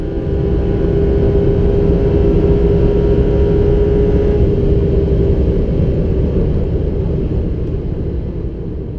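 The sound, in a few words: Porsche 991 GT3 RS driving very fast on the Autobahn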